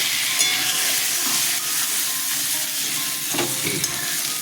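Tomatoes frying in a pan with green chilli for a sarputi fish curry, a loud, close, continuous hiss and sizzle with faint stirring scrapes.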